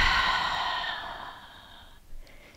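A long, deep exhale during a slow-flow yoga sequence, a broad breathy rush that fades over about two seconds, followed by a faint short intake at the end, close and alone without talk.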